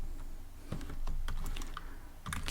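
Keys clatter on a computer keyboard in short irregular bursts of quiet clicks and taps, close by and with no voices.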